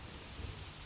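Rain falling steadily outdoors as a soft, even wash of noise with a faint low rumble beneath, constant through the short stretch, with no voices.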